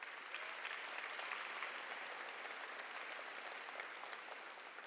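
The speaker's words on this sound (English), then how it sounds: "So please give the team behind the team a round of applause" Steady, dense applause from the audience at a sports awards banquet, a continuous wash of clapping lasting a few seconds with no voices over it.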